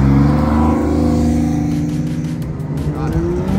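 A Porsche 911 arrives at a Lake Mary Cars and Coffee meet, its engine loud and close with a throaty roar that shifts in pitch as the car passes.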